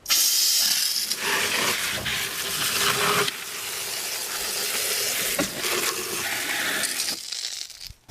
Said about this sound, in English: Next we're going to add the water.